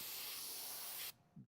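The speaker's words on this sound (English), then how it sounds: "I am airbrushing acrylics over acetone spray primer on a humid day." An airbrush sprays acrylic paint over an acetone spray primer on a humid day, giving a steady, close hiss that cuts off abruptly, followed by a brief soft thump.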